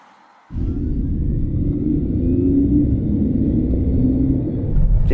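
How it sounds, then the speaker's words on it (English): Mercedes-AMG GT63 pulling away under acceleration, a loud low rumble that cuts in after a short quiet moment and holds steady and close throughout. "not only does it make electric sporty sound on the inside of the cabin, it also emits it on the outside at speeds below 80 kilometers an hour"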